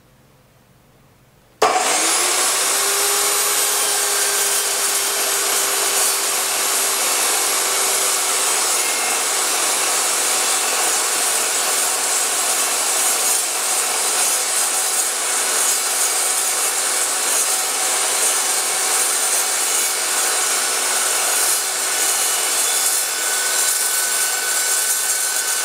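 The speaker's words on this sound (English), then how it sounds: "pretty cool to hop on the same machine and go cut a piece of angle like this" A DeWalt DW872 multicutter saw cuts through a piece of steel angle: a sudden start, then a loud, steady high-pitched whine that holds for over twenty seconds without a break.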